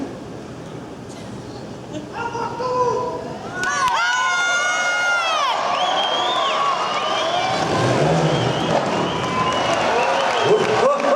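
A trial motorcycle, the same bike as Takahisa Fujinami's, at an indoor trial event in Toulouse in 2013. Its engine revs rise and fall in sweeping bursts over a loud, continuous crowd with cheering and applause.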